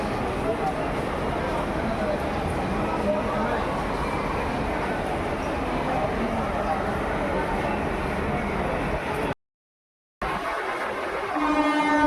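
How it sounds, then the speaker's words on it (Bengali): Train at Bardhaman railway station, a continuous loud rumble of rolling rail cars with a horn-like tone, people talking, and a brief gap before the noise resumes. "এখন এই যে চলে এসেছি বর্ধমান স্টেশন"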